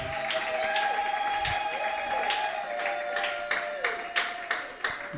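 Members of a church congregation clap their hands for God, a continuous patter of claps over a droning musical tone, with a few sharper, more distinct claps toward the end.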